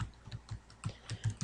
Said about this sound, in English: I'm just going to type friendship